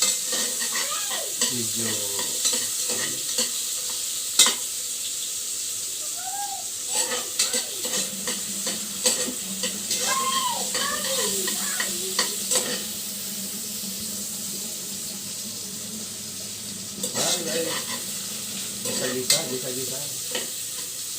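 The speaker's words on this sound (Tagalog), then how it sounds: "Gisa-gisa, bango na agad yun. Sibuyas, bawang pa lang." Onion and garlic sautéing in a pan as the base for pork spareribs sinigang: a steady close sizzle with scraping, clattering stirring strokes throughout, and a voice speaking briefly over the cooking.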